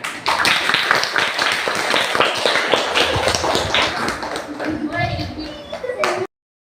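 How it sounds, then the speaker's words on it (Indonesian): A classroom of pupils claps their hands in a dense burst of rapid, overlapping claps that lasts several seconds and then fades out, with voices mixed in. "Mari tepuk tangannya."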